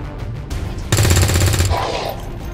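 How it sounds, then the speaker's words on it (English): A shotgun blast in the video game XCOM 2 Long War 2 gives a loud, close burst of rapid cracking reports that trails into a fading rumble, preceded by quieter game ambience. "Jackson can pretty much step up to the officer and just blast him with the shotgun"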